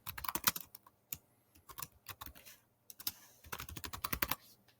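Someone types a folder name on a computer keyboard, close-up clicking keystrokes in uneven bursts with short pauses between, ending in a fast run of taps.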